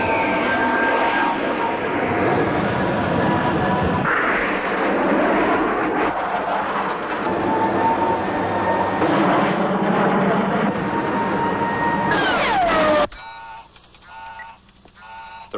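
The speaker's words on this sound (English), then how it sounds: "Alex, planes can't take this." Military jet airplane climbing steeply at full power, a loud sustained engine roar with rising whine tones, ending abruptly after about thirteen seconds into a quieter background.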